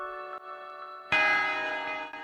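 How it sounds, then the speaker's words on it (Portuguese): A bell chime sound effect for a subscribe reminder rings out clearly, a sustained tone followed by a louder second strike that rings and decays, with no voices. "não se esqueça de se inscrever neste canal e ativar o sininho para ser lembrado quando houver um novo vídeo"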